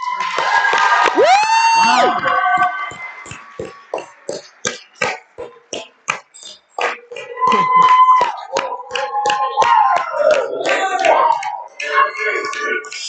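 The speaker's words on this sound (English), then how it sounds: "the crowd goes absolutely wild for UBC here" A loud crowd at a student bridge-building competition cheers and shouts, with rhythmic clapping and chanting rising and falling, then swelling into sustained roaring and whooping.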